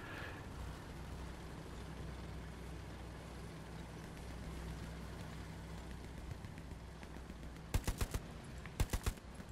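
STG-44 rifle fire in the Hell Let Loose video game: two quick bursts of sharp, close shots near the end, after a long stretch of low rumbling engine and battlefield ambience.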